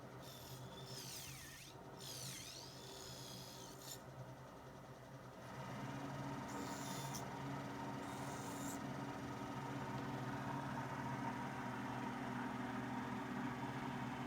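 A restored cast bead-making lathe runs quietly as its speed is turned up. Faint whistling tones come early, then a low, steady mechanical hum swells and holds on its own.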